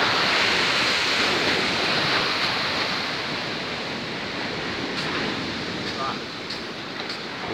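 Tidal waves surging onto Pasir Koto Raya beach in Lengayang, Pesisir Selatan, a steady loud roar of surf with wind that stays continuous throughout and fades only slightly toward the end.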